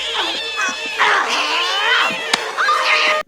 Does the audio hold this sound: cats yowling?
yes